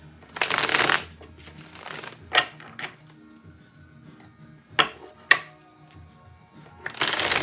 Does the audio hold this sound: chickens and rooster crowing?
no